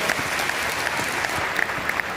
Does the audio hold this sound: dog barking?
no